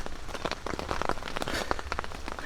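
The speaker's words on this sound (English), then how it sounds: "the rain has stopped a little bit" Steady rain pours onto surfaces at a campsite, a dense, continuous patter of drops with no voices over it.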